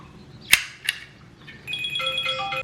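A phone rings in a home kitchen, a short run of bright electronic ringtone tones after two sharp clicks, fairly near and alone with no talk.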